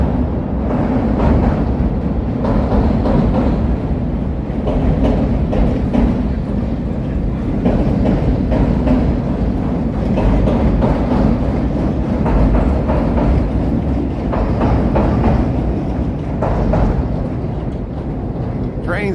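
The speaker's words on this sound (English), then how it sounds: "That's the brown line heading into the loop." A Chicago L Brown Line train rumbles past on elevated track by the Wells Street Bridge, a loud sustained roar with rattling clatter, with people talking over it.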